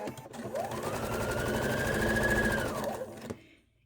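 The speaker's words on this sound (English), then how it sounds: "I'm going to grab the 4 patch and sew that together first" An electric sewing machine runs steadily while stitching the pieces of a four-patch quilt block together, a close, continuous mechanical whir that spins up, holds for about three seconds, then winds down and stops.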